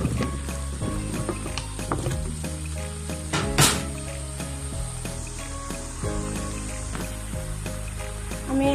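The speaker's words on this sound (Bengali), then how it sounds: "এখন আমি এর মধ্যে লাউটা দিয়ে দিচ্ছি, যে লাউটা আমি কেটে রেখেছিলাম।" Cut bottle gourd hits hot oil in a frying pan over full heat, giving a steady sizzle with clinking and scraping from stirring, plus one brief louder burst partway through.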